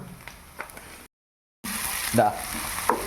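Chopped green chilies and tomatoes hitting a pan of frying onions for kothu chapati, a steady close sizzle with stirring clatter, briefly cut to silence mid-clip then returning louder.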